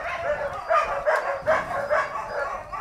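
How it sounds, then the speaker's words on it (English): Dogs barking inside an animal shelter for rescued animals, a run of repeated, fairly close barks about every half second over a busy, echoing room. "Our visit here is not much welcomed with these carnivorous animals barking at us as soon as we made our way inside the shelter."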